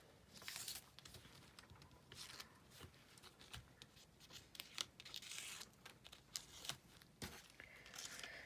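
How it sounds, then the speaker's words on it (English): Tear tape is peeled from its backing and pressed down onto card, heard as quiet, close ripping and crinkly scratching in short irregular bursts, with soft handling taps between them. "we're going to stick it down there with some tear tape"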